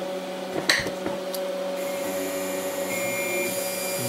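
A CNC lathe jogs its Z axis, a steady whining motor hum that runs continuously with a slight shift in tone partway through and a few small clicks near the start.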